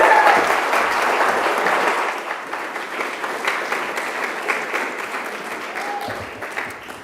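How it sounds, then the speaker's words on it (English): Sustained audience applause at an awards ceremony, a loud dense wash of clapping from a large crowd that gradually tapers off, with no talking over it. "let's give a round of applause to tonight's winner and finalists"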